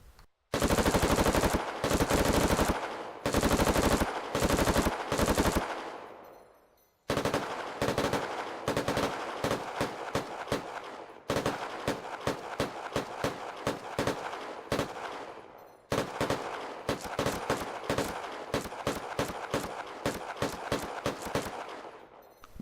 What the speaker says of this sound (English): let's go ahead and try out the Mark 200. This is semi-auto. I'm shooting semi-auto.